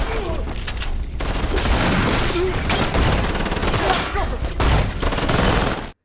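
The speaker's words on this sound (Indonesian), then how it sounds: "tapi saat Body melakukan serangan, akhirnya Utah gak segan-segan hingga aksi baku tembak pun gak bisa dihindarkan" A movie shootout fills the scene with dense, continuous gunfire and loud crashing impacts, rapid shots overlapping one another with little pause before a sudden cut to silence.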